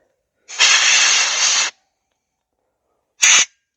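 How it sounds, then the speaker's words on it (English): Compressed air blasting metal chips out of a tapped bolt hole on a Wright Stander ZK mower engine mount, a loud hiss lasting over a second followed by a shorter sharp burst after a pause. "blow those chips out"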